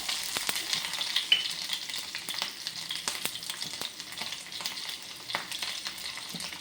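Mustard seeds and green chili frying in hot oil, a crisp, close crackle with rapid popping clicks over a light sizzle, fairly quiet and continuous, no voices.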